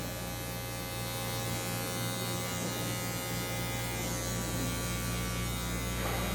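Electric hair clippers buzz steadily and close up while cutting a fade at a barbershop, edging around the hairline in one unbroken drone with no talking.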